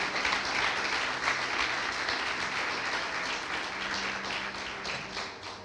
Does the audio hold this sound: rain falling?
no